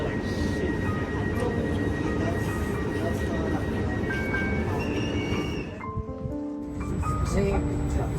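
Steady rumble of a moving train, with a faint voice in the carriage, a few tonal whines and a brief dip in the noise near the end.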